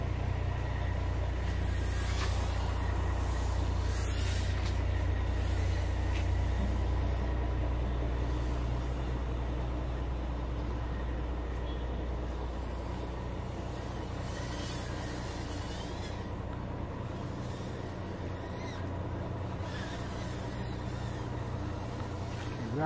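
FPV drone fitted with Happymodel brushless motors punches out in open space, giving a loud, steady rumbling drone that holds for the whole stretch and eases slightly near the end, with no talk.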